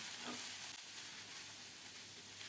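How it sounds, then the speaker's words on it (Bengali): Moringa leaves frying with garlic and green chillies in a pan give a steady, close hissing sizzle, soft and continuous, with a faint stir partway through. "নেড়ে চেড়ে পাতাগুলোকে কিছুক্ষণ ভেজে নেব"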